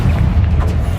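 Booming blast of the Confringo explosive spell in the Hogwarts Legacy video game, a dense low rumble that fills the whole short moment at close range and loud level.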